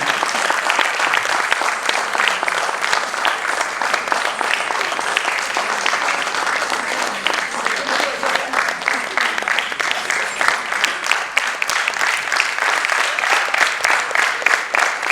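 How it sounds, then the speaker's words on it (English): Audience at a classical dance show applauding a dance teacher, a dense, sustained wash of many hands clapping throughout, loud and steady with no break. "So a big round of applause for the teacher of Meenakshi ji."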